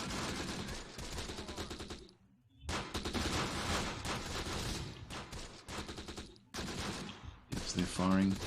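Bursts of gunfire from the Close Combat: The Bloody First wartime tactics game, dense crackling volleys and rapid fire filling most of the span, with a brief lull partway and a sharper burst near the end.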